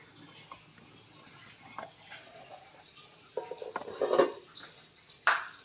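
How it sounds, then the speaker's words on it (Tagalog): Dishes clink and clatter near a sink, with plates and utensils knocking together irregularly and growing louder toward the end. "maghugas na po ko og pinggan"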